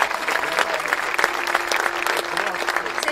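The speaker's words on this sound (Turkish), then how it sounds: "Öncelikle alkışlar ve teşekkürler hepimize gitsin." Audience applause at a 2021–2022 high school graduation ceremony in İzmir, steady dense clapping from a large crowd filling the whole stretch, with faint speech underneath.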